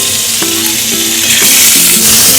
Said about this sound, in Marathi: तर हे बघा मस्त असे तेलामध्ये पनीर भाजून घ्यायचे तळून घ्यायचे